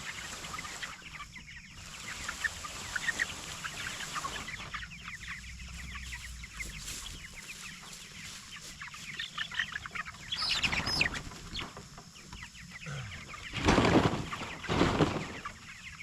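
Young turkeys and five-week-old chicks on grass pasture peep and cluck continuously, a busy flock chorus with louder bursts of calls near the end, no voices heard.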